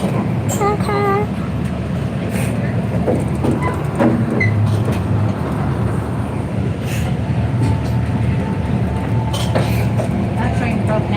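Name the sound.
zoo train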